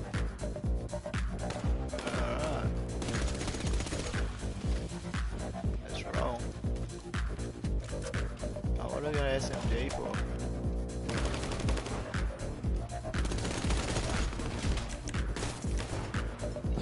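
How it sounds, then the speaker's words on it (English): Continuous gunfire in GTA V Online, with rapid automatic bursts and scattered shots running nonstop under background music and game noise, fairly loud and busy throughout. "I'm getting shot from behind though."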